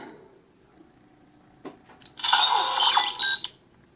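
A click, then a loud burst of buzzy electronic zapping and warbling tones from a Kamen Rider Gaim DX Sonic Arrow toy, lasting about a second before cutting off.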